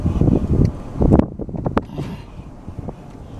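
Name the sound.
wind blowing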